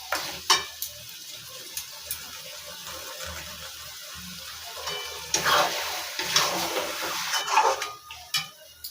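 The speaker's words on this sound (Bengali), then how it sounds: "এটা আমি ভালো করে 10 মিনিট কষিয়ে নেব।" Meat and yogurt stirred and sautéed in a pan with onions, giving a steady low sizzle with scraping stir strokes and clinks that grow busier in the second half, close by and with no talk.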